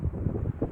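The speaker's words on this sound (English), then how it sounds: "It's windy, rained all last night in Atlanta." Wind gusts across an open Atlanta park on a chilly, roughly 38-degree day after overnight rain, buffeting the microphone in low, uneven rumbles for a brief moment.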